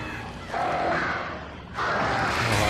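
Crows in the video game Alan Wake give harsh, loud cawing calls in two drawn-out bursts close by, separated by a brief lull, with no talking.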